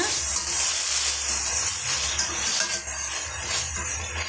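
Onions, garlic and tomatoes sauté in a pan for a ladies finger kara kulambu, a steady close hiss and sizzle that runs throughout.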